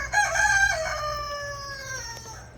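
On a rainy homestead, a rooster gives one loud, close, drawn-out crow that rises and then trails off, standing alone over a low rumble of rain.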